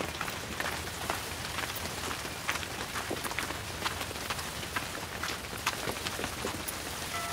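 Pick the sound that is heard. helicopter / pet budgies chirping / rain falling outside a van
rain falling outside a van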